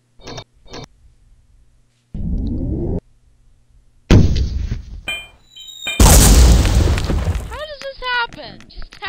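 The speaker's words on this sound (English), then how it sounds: "Evidently, none of us should ever use a mortar." Booming explosions and bursts from a mortar shell and other weapons in the Territory War video game, sharp loud blasts separated by short gaps, with whistling game effects; people talk over the action.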